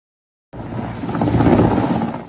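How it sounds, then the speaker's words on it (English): Mexican Navy Mi-17 helicopter lifting off from a naval base in Mazatlan, Mexico: a loud, steady rotor and turbine roar that starts abruptly and swells slightly, with no voices. "a Mexican Navy Mi-17 helicopter was taking off from a naval base in Mazatlan, Mexico"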